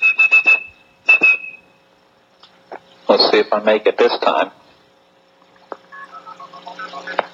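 A person whistles short, high, pitch-perfect tones imitating phone network signaling tones, in two quick bursts near the start. Spoken remarks follow, then a further run of stepped whistled tones mixed with talking.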